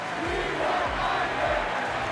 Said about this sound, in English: Listen to the crowd chanting, "We want Isaac."